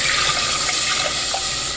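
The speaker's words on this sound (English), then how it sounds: "Then you're going to add your water." Water pours steadily into a pot of potato soup in a kitchen, a loud continuous rushing splash with no talking over it.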